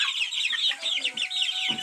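Asil chickens and chicks cluck and peep close by in a short, busy burst of overlapping high calls on a farm.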